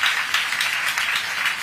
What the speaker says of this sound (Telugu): గట్టిగా అందరూ కూడా చప్పట్లు కొట్టి అభినందించండి.